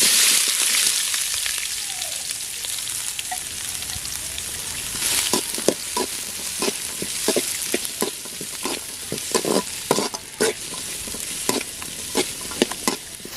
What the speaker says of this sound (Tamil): இந்த எண்ணெய் சூடானதுக்கப்புறம் நான் ஏற்கனவே சொன்ன மாதிரி வெங்காயம், பச்சை மிளகாய், பூண்டு இது மூணுத்தையுமே அந்த எண்ணெயில் போட்டு நல்லா வதக்கலாம்.